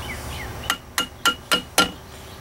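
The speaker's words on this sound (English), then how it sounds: "you get a screwdriver in here, tap on it to get behind the tabs, and then pry them out" A screwdriver taps sharply on the metal lock tabs of a boat motor propeller, five crisp, evenly spaced metallic strikes close by with a faint ringing tone.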